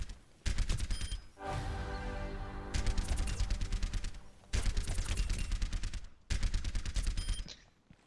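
Rapid automatic gunfire in the Overwatch video game, several loud sustained bursts of fast, evenly spaced shots separated by short gaps.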